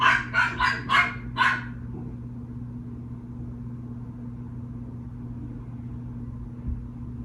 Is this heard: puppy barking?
yes